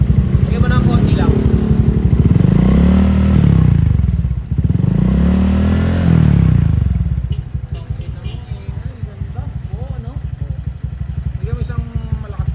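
A Honda Click 125 scooter fitted with an RS8 dual tip exhaust revs up twice to a loud rising roar close by, then drops back to a rough, pulsing idle.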